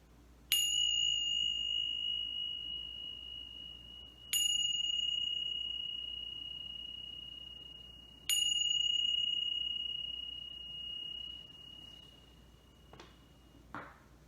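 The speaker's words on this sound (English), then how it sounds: "I'm going to begin and end this mindfulness meditation session with bells." Three clear meditation bell strikes, evenly spaced about four seconds apart, each ringing out with a long, pure sustained tone that slowly fades in a quiet room.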